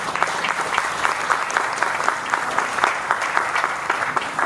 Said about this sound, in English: I think we need to give Walmart a round of applause for not giving up on us